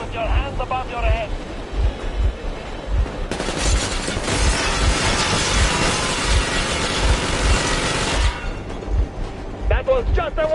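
Machine gun warning shots in a video game, a sustained loud burst of rapid fire over a rumbling engine and wind, with a voice speaking before and after.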